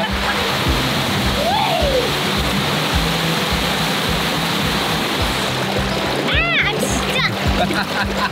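Water rushes and splashes at a bush campground swimming hole in East Arnhem Land, Australia, a loud constant roar close by, with voices talking over it.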